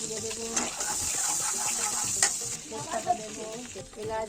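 Steady sizzling and crackling of food frying in a pan for Himachali pulao, close and continuous with light stirring scrapes.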